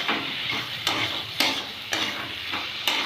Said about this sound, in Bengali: কষানো মশলার মধ্যে ভাজা আলুটা দিয়ে ভালো করে একটুখানি নেড়ে নিতে হবে